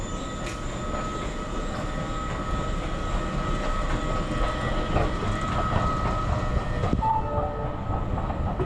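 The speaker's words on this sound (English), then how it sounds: "Arriving, Blue Line, train to UNT Dallas Station." A two-car DART Blue Line light rail train rumbles into a Dallas station, a steady mechanical roar with rail noise, brief squeals and clanks, ending as it slows near the platform.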